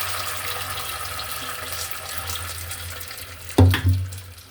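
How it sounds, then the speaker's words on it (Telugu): Water pours into a cooking pot over fried tempering, a steady close rush of running water that ends in a louder splash near the end, with no talk. "ఇప్పుడు వాటర్ వేయాలి"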